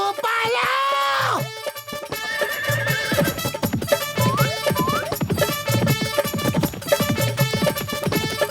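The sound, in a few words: horse neighing in a Motu Patlu cartoon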